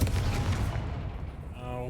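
A Confringo blast spell in Hogwarts Legacy lands as a dense, loud burst of rumbling energy that fades over about two seconds, leaving a thin tonal ring at the end.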